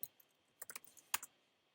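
Clicky bursts of typing on a computer keyboard entering a web browser search, a few scattered keystrokes then a quick cluster of taps and one sharper stroke, close and fairly quiet with no talk.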